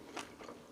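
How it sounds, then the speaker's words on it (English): Crispy rolled tacos (flautas) being bitten and chewed close to the mic, one sharp crunchy bite followed by a few softer chewing crunches over less than a second, with no talking. "If you don't like eating noises, like I always say, tune away."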